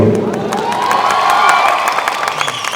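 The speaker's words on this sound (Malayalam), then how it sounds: "ഒരു പ്രാവശ്യം കൂടെ ആ കയ്യടി തരുമോ" Crowd of shoppers at a mall film promotion breaks into loud, sustained applause and cheering, with whoops and shouts rising through the clapping from start to finish.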